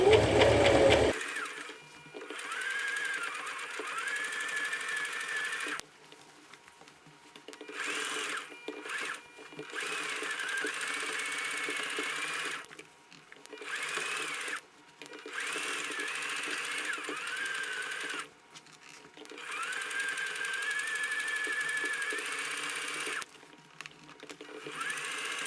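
A sewing machine stitches a tote bag in repeated bursts of steady whirring, close and loud, separated by brief pauses.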